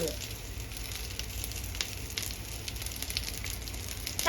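Steady, close sizzling of salted mackerel grilling in a hot pan, a continuous crackle with no voices.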